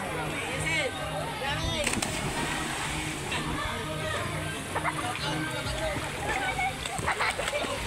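Fresh running river water splashes and churns steadily under lively nearby talk and shouting from people enjoying a summer day at the river.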